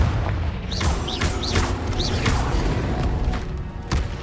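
Repeated fiery blasts of the Confringo spell in the wizarding game Hogwarts Legacy: a series of whooshing bursts and booms over a steady rumble of combat and music, with no talk.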